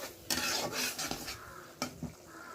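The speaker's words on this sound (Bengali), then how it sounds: "মশলা কষানো হয়ে গেছে, এখন দিয়ে দেবো চিংড়ি মাছ।" Prawns hit a pan of cooked-down spiced masala and fry, with a soft sizzle, scraping stirs and a couple of sharp utensil clanks against the pot.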